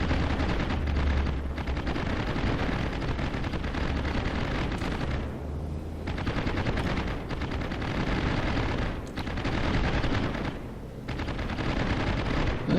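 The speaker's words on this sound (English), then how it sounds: "we're spotting one of the enemy cruisers, because those are its shells flying underneath my aircraft" Enemy cruiser shells firing in the naval battle game World of Warships during aircraft carrier play: dense, continuous rumbling gunfire and explosions with a low boom early on, loud and sustained, with no talk.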